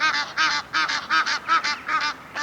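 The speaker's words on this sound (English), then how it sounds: "The ducks and the geese are singing happy birthday to my dad down there." Geese and ducks honking at a reservoir at sunrise, a dense run of loud, repeated nasal honks in quick uneven bursts, close and continuous with no talking.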